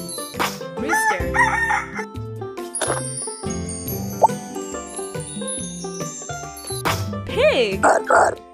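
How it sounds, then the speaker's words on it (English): Rooster crowing in a children's animal rhyme, two cock-a-doodle-doo calls, one near the start and one near the end, over bright music with bells and plinks and a voice. "Rooster."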